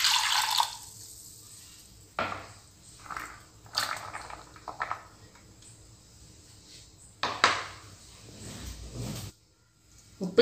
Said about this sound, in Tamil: பேன் சூடாயிடுச்சு அரை கப் தண்ணி ஊற்றிக்கலாம்